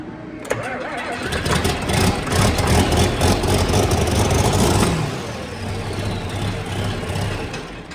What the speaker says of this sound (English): I'm going to give it a fire up here now. I expect it's going to start right away, right?